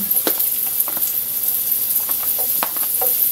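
Garlic and onion sauté in a pan, a steady close sizzle with scattered crackles and brief spatters throughout, no voices.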